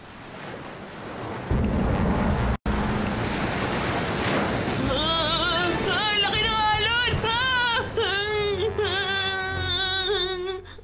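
Cartoon ocean waves breaking on a beach, a loud steady surf wash that fills the scene while animated characters talk and shout over it.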